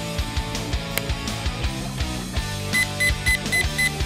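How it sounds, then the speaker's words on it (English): A Vulcan metal detector pinpointer gives a series of five evenly spaced short high electronic beeps near the end, heard over louder ongoing background noise and rhythmic low thumps. "While holding the button, the Vulcan will beep"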